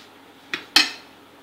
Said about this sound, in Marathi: असं मिक्स करायचं आहे